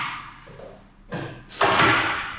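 Large drawing-room doors in a new 12 Marla house in Bahria Town, Islamabad, being opened: a soft sliding rumble, then two solid wooden thuds as the panels move and knock into place, close and fairly loud, with no talking.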